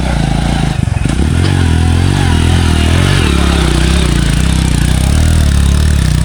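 A motorcycle engine idles loudly and close by on a hill road in Mirinja Valley, a steady rumbling throb with a brief clatter near the start.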